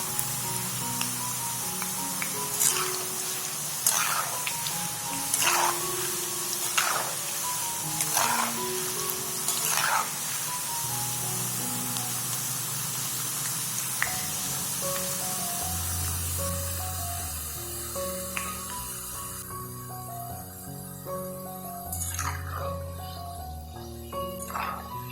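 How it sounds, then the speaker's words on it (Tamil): Thin slices of nendran banana drop one by one into hot coconut oil for Kerala-style chips, giving a steady, close sizzle and bubbling with soft splashes as pieces go in, no talk. "எண்ணெய் சூடானதுக்கப்புறம் நம்ம ரெடி பண்ணி வச்சுருக்க ஸ்லைசஸை ஒன்று ஒன்றா எண்ணெயில் சேர்த்துற வேண்டியது தான்."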